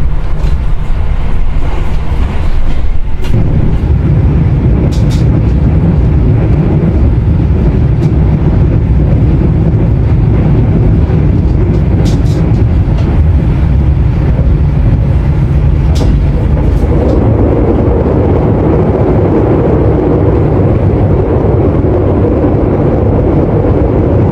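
The Argo Dwipangga, a luxury-class train running between Jakarta and Solo, gives off a loud, continuous rumble with a heavy low roar for over twenty seconds, and the tone shifts partway through as it keeps speeding along.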